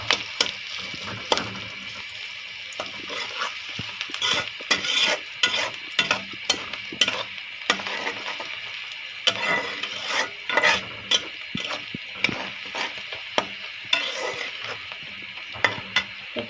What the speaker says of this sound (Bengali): এখানে আম্মু তেলের মধ্যে পেঁয়াজ ভাজতেছে